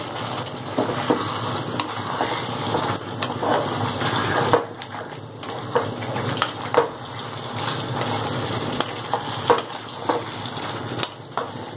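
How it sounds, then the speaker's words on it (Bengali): Marinated chicken sautés in a pan for a Hyderabadi chicken curry, a dense steady sizzle close up with scattered scraping and knocking from stirring, louder bursts as the pieces are turned, no talk. "এবার আমি ম্যারিনেট করা চিকেনটাকে দিয়ে দেবো। ভালো করে আমি কষাবো।"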